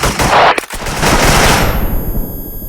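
A mounted gun in the shooter game Special Force fires a loud, close, rapid burst of automatic rounds, breaks off briefly, then rattles on in a sustained stream that fades at the end.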